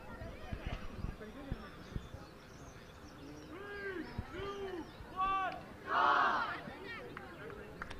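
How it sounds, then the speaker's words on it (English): Storm Chasers give a hearty group cheer at an ultimate frisbee national tournament, loud shouts rising over scattered calls and chatter outdoors. "Nice hearty cheer coming up from Storm Chasers."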